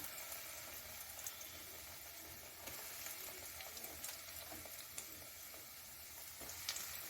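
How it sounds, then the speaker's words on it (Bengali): Small pieces of bread fry in oil over low heat in a pan, making a faint, even hiss with scattered soft pops and crackles, no voices present. "এবার যে ছোট ছোট ব্রেডের টুকরোগুলো, ওগুলো আমি এক এক করে ছেড়ে দেব।"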